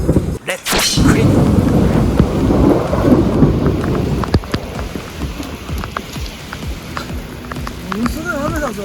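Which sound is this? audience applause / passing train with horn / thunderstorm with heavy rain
thunderstorm with heavy rain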